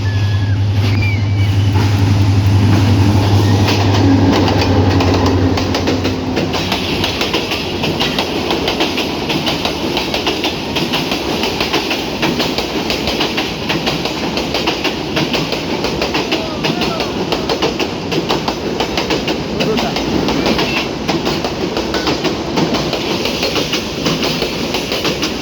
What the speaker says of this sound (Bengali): এখন আসলে সিলেট থেকে ছাড়া জয়ন্তিকা এক্সপ্রেস।